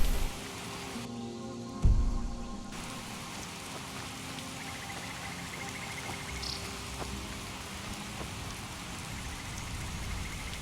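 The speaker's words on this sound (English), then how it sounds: "enjoy the rain." Rain falls steadily in Skyrim, a dense, even patter that runs throughout, with a brief thud near the start and faint insect-like chirps beneath; no voices.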